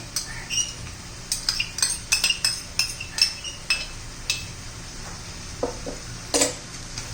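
A spoon stirs sour whisked curd into garlic chutney in a pan, giving scattered metallic clinks and scrapes at an uneven pace, fairly close and moderately loud, with no talking.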